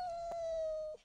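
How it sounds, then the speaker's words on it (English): A single drawn-out cat wail, a steady high mournful tone lasting about a second, fairly faint and alone. "Cat."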